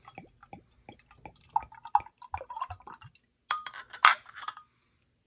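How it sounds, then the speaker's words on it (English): Thick, viscous coconut beer poured from a bottle into a glass, giving soft liquid drips and a few light glass clinks, with a brighter splash and clink near the end; quiet and close. "Pours kind of viscous."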